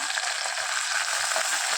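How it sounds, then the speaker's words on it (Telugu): Mutton frying in a pan with fresh coriander and mint leaves added, a steady close sizzle with a faint crackle running evenly throughout, no voices. "ఇలా కలర్ మారేంత వరకు మనము వేయించుకోవాలి"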